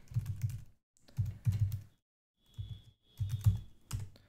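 Bursts of quick keystrokes on a computer keyboard as commands are entered on a Linux host, clattering in several short runs separated by brief pauses, close and clear with no talking.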